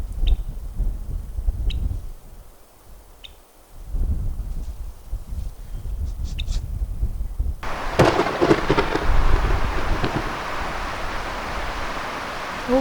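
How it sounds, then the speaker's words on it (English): Thunder from a night thunderstorm rolls in as low rumbles, with faint sharp cracks, while parked in an RV in the Black Hills; a steady hiss of heavy rain or wind then builds loudly and continues. "I love thunderstorms."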